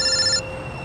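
Electronic telephone ring, a bright warbling tone that sounds briefly and cuts off abruptly, leaving a faint steady hum behind it.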